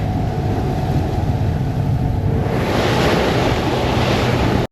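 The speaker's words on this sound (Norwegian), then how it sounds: "I noen vinkler på bølgene så skal det ikke så veldig store bølger til før det blir veldig vått." Rough seas heard from a boat at sea, with loud, continuous rushing water and surf over a steady roar of wind buffeting the microphone, with no talking.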